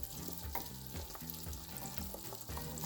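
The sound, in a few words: apples frying in butter in non-stick skillet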